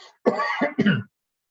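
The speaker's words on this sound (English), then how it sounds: "Excuse me, I'm gonna cough." A single close, harsh cough broken into two or three quick bursts, followed by silence.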